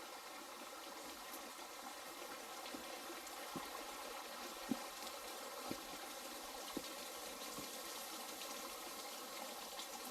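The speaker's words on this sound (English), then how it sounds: "It does look like falling water." Steady, broadband rushing of falling water, continuous and even throughout, with a few faint clicks and knocks over the top.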